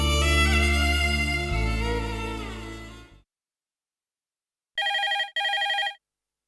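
A telephone rings in two quick electronic bursts after a sustained musical tone fades to silence.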